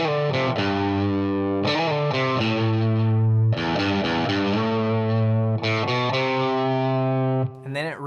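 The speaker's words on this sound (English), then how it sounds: "For that, I'm gonna use a little distortion." A heavily distorted electric guitar plays a rock bass line, sustained notes with sliding pitch changes, loud and close with no voices.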